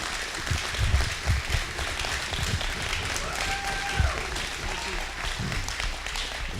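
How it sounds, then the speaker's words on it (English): An audience applauds at a lifetime achievement award ceremony, producing steady, moderately loud clapping that fills the room, with some voices mixed in underneath. "We'll give him another round of applause here real quick."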